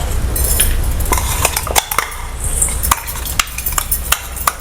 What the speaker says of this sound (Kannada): ಈಗ ಗ್ರೈಂಡ್ ಮಾಡಿದ್ದು ಪೇಸ್ಟ್ ಅನ್ನು ಫ್ರೈ ಮಾಡ್ಕೊಳ್ತೀವಿ.